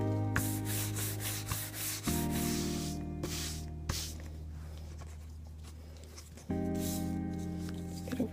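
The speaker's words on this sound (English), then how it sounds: "they're burnishing with just doing this" Leather leash edges are burnished by rubbing, making soft repeated scratchy friction strokes close by, with faint steady hum in the background.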